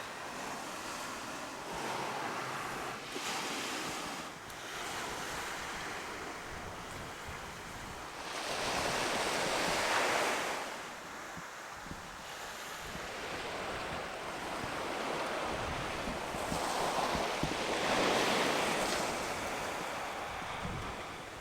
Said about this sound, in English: I hope you can hear me over the crashing waves.